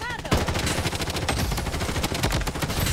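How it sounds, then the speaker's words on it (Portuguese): Rapid bursts of gunfire crackle through the shooter video game Blood Strike, loud and close, with rattling automatic shots and sharp cracks overlapping in quick succession. "Poxa, sou recebido aqui com um tiro."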